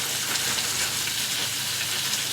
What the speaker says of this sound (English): We're dropping this entire bag of collard greens right on top of those caramelized onions.